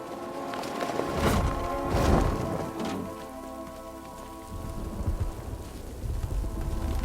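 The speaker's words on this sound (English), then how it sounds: "What's with all the rain?" Steady rain patters on surfaces in the video game Batman: Arkham Knight, with a few heavier splashes and a low rumble underneath.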